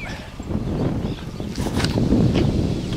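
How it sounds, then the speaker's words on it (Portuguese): Wind gusts buffet the microphone beside a road, a steady low rumble that swells and holds throughout at close range, with no speech. "Aí, tá um vento."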